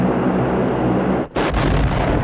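Tank cannon fire in the 1987 film The Living Daylights gives a loud, sustained booming roar that briefly drops out before surging back.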